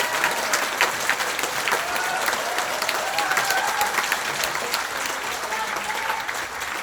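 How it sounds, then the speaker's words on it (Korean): Sustained applause from an audience at a party members' council meeting and special lecture, a dense steady clatter of many hands clapping throughout. "다시 한번 뜨거운 박수를 쳐주길 바랍니다"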